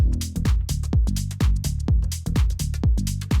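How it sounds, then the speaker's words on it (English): Minimal house groove with a punchy kick, deep bass and crisp drums looping in a tight, steady rhythm, loud and upfront with no voices. "With the drums and the kick and the bass,"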